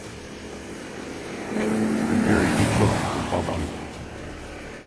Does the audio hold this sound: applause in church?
no